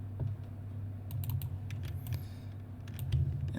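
Quick keystrokes tap on a computer keyboard in an uneven flurry of close clicks over a low steady hum, with no talking during the typing.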